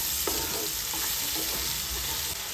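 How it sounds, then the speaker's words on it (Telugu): Tomato paste cooking down in oil in a pan, a dense continuous sizzle holding steady throughout with faint scraping touches and no talking. "ఈ టమాటా పేస్ట్ ఇది కూడా మగ్గించుకోవాలి ఆయిల్లో"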